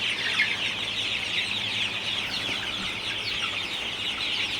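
A flock of Sonali or broiler chickens on a poultry farm in hot weather keeps up a dense, steady clucking chorus that fills the space evenly at moderate loudness, with no one talking.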